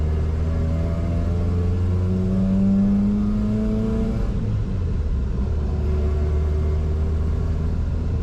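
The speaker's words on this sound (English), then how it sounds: "So yeah, the exhaust is all Merlin" A Toyota truck engine fitted with a Merlin exhaust runs loud and close, with a deep rumbling idle that rises into a rev around the middle and then settles back, with steady harmonic drone throughout.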